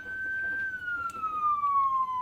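A Whelen 295SSA1 electronic siren sounds its standard wail tone, one loud steady tone sliding slowly downward in pitch, close and clear, with no talking over it.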